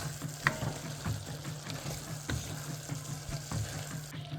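A spoon stirs crushed pimento, clove and a tablespoon of salt in a pot over gentle sizzling, with several distinct scrapes and taps against the pot at irregular intervals.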